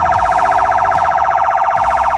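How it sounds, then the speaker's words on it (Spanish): Ambulance siren in the pattern used at crossings and in heavier traffic: a rapid, dense warble repeating many times a second, very loud and continuous, with no voices. "Este sonido se utiliza cuando hay cruces o hay más tráfico."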